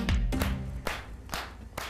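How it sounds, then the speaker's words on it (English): A small exercise-class group gives a short burst of applause, a handful of distinct claps close by with no voices. "Give yourselves a round of applause."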